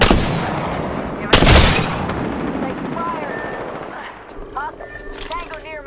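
Gunfire in the Apex Legends video game: a loud burst of shots opens, a heavy blast follows after a second, then the shooting fades into quieter game sounds and chirps, with voices talking over it.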